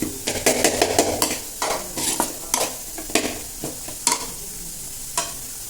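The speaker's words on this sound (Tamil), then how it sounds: "சிம்மில் வச்சு நல்லா வதக்கிக்கோங்க." Mutton kuzhambu ingredients sautéing in a pan over a low flame, with repeated close scraping strokes of a spoon against the metal over a soft sizzle, and no voices.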